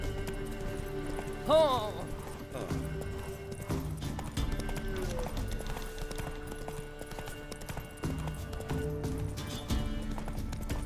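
Roach, the horse in The Witcher 3, gallops with steady clip-clop hoofbeats under game music, with a brief whinny near the start and a voice speaking over it.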